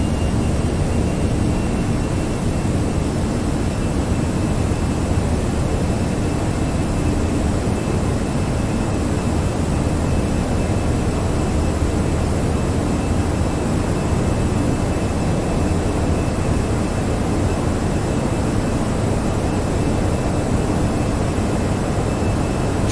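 Airliner jet engines at climb thrust in an Aerosoft flight simulation of an Air France Vienna to Paris flight, a steady loud broadband roar with low rumble that holds constant and unbroken throughout, no voices.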